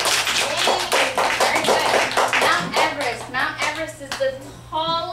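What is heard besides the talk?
class clapping for a student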